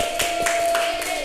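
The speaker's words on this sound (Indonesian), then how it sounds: "Oke, kita beri tepuk tangan untuk Mbak Nana." Classroom clapping during a microteaching session, a dense steady patter of many hands filling the whole moment, with a faint tone running underneath.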